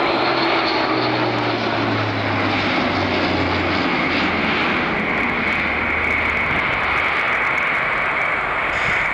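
An Airbus A400M turboprop military transport flies a very steep descent during an air display, its loud, steady propeller drone sustained throughout with a low engine tone sliding lower as it passes.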